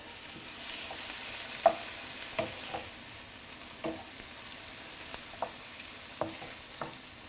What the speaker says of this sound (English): So I'm just using the back of the spoon to just mush the tomatoes a little bit